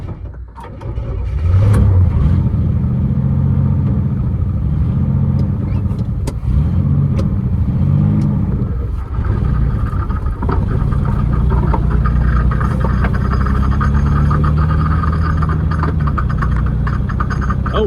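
An old Chevrolet Camaro, not driven in 36 years and reluctant to idle, rumbles steadily from inside the cabin as it cruises down the road, a loud low drone with a rough uneven note and slight shifts in pitch.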